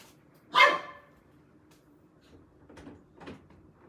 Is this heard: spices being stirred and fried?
no